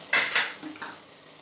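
A utensil clinks against a pan as saffron-infused fresh cream is stirred into shahi paneer, giving two sharp metallic knocks followed by a softer scrape, close and brief, with no voices.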